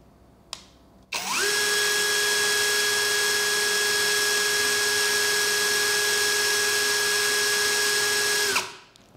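A Bull BL26Li cordless brushless impact drill spins up at its high speed setting, a steady, loud, high-pitched whine held for about seven seconds, then winding down, close up and with no talk.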